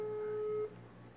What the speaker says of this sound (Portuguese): Aí eu já vou ligar pra ela.